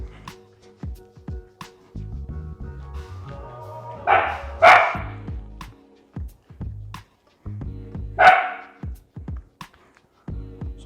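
A house dog barks in a kitchen where deep dish pizza is being made: two sharp, loud barks spaced a few seconds apart, set against low humming and clattering.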